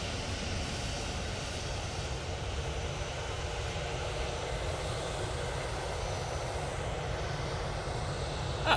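An Airbus A320-200 airliner departs Manchester Airport bound for Belfast, its engines a steady, fairly distant roar that holds evenly throughout, with no one talking.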